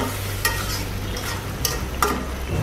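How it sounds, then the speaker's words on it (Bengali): Shrimp and Malabar spinach fry loudly in a pan, a steady close sizzle broken by a few scraping stirs of the spoon, with no talking. "নেড়ে দিচ্ছি।"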